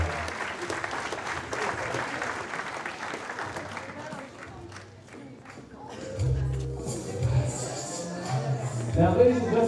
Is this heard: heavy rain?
no